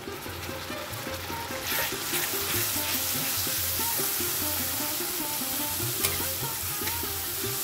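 Softened onion frying with green chillies and ginger-garlic paste for a prawn malai curry, a bright continuous sizzle under a regular tapping rhythm of a spatula stirring against the pan.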